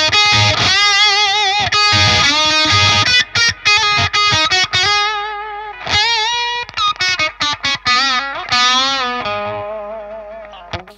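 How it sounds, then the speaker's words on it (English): Loud, saturated electric guitar through a Plexi amp tone, thick crunchy distortion, playing sustained chords and choppy riffs with short gaps, alone and up close. "Next up is the Plexi sound"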